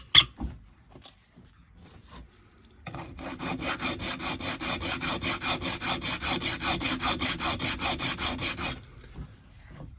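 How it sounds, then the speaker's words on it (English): A coarse hand file rasps across a key blank being cut by hand to fit a lock, a few scattered scrapes and then a run of quick, rhythmic back-and-forth strokes lasting several seconds, loud and close. "I'm using a coarse file."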